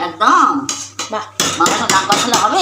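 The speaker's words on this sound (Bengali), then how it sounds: "এবার একটু নাড়িয়ে চাড়িয়ে দেওয়া হচ্ছে এই মশলাটাকে" A spoon stirs and scrapes spice masala with a little sugar in a pan for gandharaj chicken, giving loud, close clinks and scrapes of utensil on metal in uneven bursts, with no talk.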